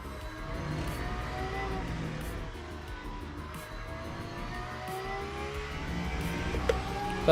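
Race car engine in Le Mans Ultimate held at steady revs at Silverstone, a continuous drone with shifting tones and a brief louder rise at the very end.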